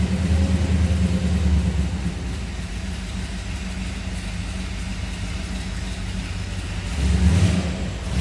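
A 1961 Chevrolet Corvette convertible runs after a cold start, settling into a steady low idle rumble with a brief swell of revs at the start and again near the end, heard close by and alone.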